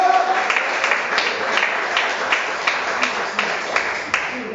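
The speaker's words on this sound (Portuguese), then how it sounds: "Palmas para o Senhor Jesus, para o Senhor, para o Senhor." A church congregation claps for Jesus during a sermon, with rhythmic, roughly even clapping that pulses steadily under a murmur of voices.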